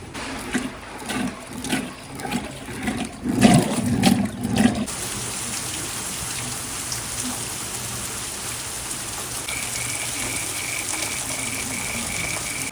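Heavy rain pours down steadily at a cowshed, with water streaming in; a few louder bursts and thumps come early, then a continuous dense hiss of downpour carries on alone.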